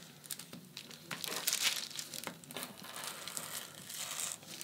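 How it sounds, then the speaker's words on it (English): Scissors cut through a folded paper pants pattern, giving faint, close, crisp snips mixed with paper rustling and crinkling over a few seconds. "I'm just going to cut it into a smooth shape."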